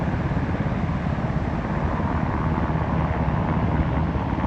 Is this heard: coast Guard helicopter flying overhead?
yes